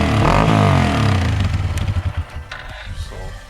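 A Hero Xpulse 200 motorcycle, fitted with rally kit and performance mods, fires up close by with a loud rumble that settles into a pulsing, uneven idle with clattering mechanical noise.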